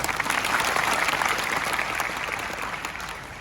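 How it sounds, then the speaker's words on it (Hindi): Students in a college lecture hall clapping together as a crowd, a steady dense applause that holds strong for about three seconds and eases slightly toward the end. "अपने सही जवाब के लिए ताली बजाओ।"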